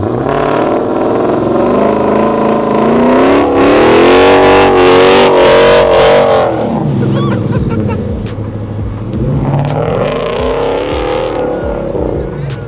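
Dodge Charger Hemi V8 with straight-pipe exhaust revving hard at a car meet, a loud rising and falling roar that peaks mid-clip, eases, then climbs again, with men chatting nearby under the engine.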